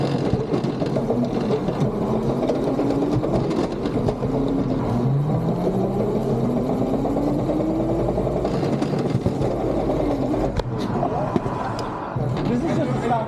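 Stock electric motor of a 40V Razor Ground Force go kart running, a continuous whirring drone with rising pitch sweeps as it speeds up, loud and close, with voices talking intermittently over it.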